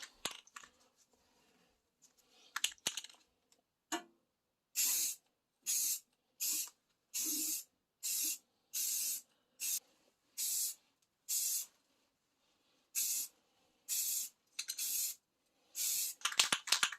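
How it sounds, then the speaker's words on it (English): Spray can applying a coat of primer to a headlight gives a close series of about a dozen short, sharp hissing bursts in an even rhythm, with faint handling noises between them. "We are ready for the second coat of primer."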